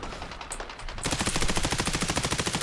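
Gunfire in the video game XDefiant: scattered shots, then a sharp loud burst opens into rapid, evenly pulsing automatic fire that continues to the end, with no talk.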